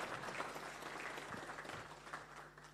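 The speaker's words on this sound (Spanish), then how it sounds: "Muchas gracias a Carlos de Miguel, con un fuerte aplauso, por favor" A conference audience applauds keynote speaker Carlos de Miguel after his lecture on the Escazú Agreement. Dense, even clapping from many hands runs throughout, heard from a short distance and fairly quiet.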